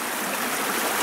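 Deception Creek, a mountain stream along a bushwhacked trail, rushes steadily with a dense, continuous hiss of flowing water, close and loud, with no voices.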